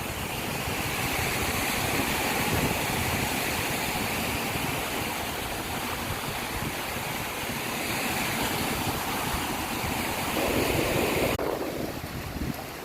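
Ocean waves surge and crash onto Nam Rin beach in Ban Chang, Rayong, a loud continuous roar of surf and wind with no voices, easing slightly near the end.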